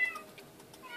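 A cat mob from the Mo Creatures mod in the Minecraft video game gives a short, fairly quiet meow lasting about a second, with no voices over it.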